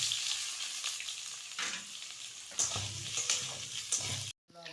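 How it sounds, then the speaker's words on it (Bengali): Potatoes frying in hot oil, with the lentil fritters just taken out: a steady close sizzle with a few soft stirring scrapes, cut off by a brief silence near the end. "এবার তেলে আলুগুলো ভেজে নেব।"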